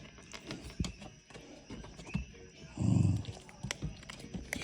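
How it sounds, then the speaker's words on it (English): Hungry dogs growl low and close, with a louder burst of growling midway among scattered scuffing sounds. "these are dogs. These are hungry dogs."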